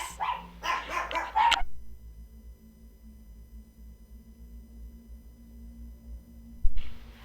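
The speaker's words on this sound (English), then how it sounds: "There goes doggies." Dogs give a short burst of rapid barks at the start, then go silent over a low hum, with one more brief bark near the end.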